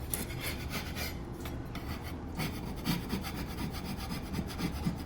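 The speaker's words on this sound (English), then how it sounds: "I like using my 4-inch trowel just because it's pretty sharp." A sharp 4-inch trowel scrapes debris off drywall in continuous close, rasping strokes with a rough gritty texture, steady and alone without talk.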